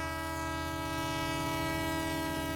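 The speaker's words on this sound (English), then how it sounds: "That train whistle." A sustained, steady train whistle or horn from a video game scene, holding a continuous tonal blast throughout at a constant, fairly loud level with no pauses or speech.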